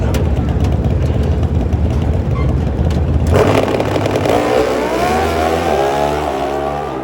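Drag racing motorcycle making a run down the strip, a loud roaring engine at full throttle that shifts in pitch partway through, then winds down as it passes and fades, with crowd and announcer talk beneath.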